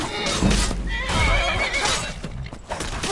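A horse in the video game Skyrim whinnies loudly and close, a single drawn-out neigh over a steady game soundscape, with a faint hoof clop beneath.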